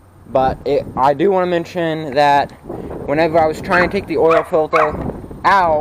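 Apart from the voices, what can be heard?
dog barking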